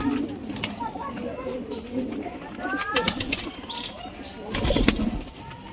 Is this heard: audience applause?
no